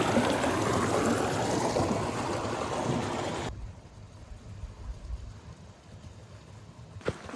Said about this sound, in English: Seems like the water comes from that meadow through this crack.